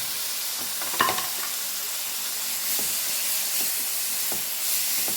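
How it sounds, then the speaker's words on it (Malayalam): A pan of sambar with tamarind bubbling and sizzling steadily on the stove, with a soft continuous hiss and a few light clinks of a utensil. "നമ്മളെ മിക്സ് നന്നായിട്ട് തിളച്ച് വന്നിട്ടുണ്ട്."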